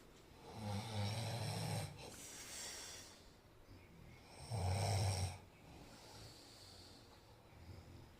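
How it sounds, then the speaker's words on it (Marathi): A sleeping person snores during a group trip to Devare in the Konkan. Two deep, rasping snores about four seconds apart sit over quiet, close breathing, with faint background noise in between. "बघितलं का कसा घोरत होता"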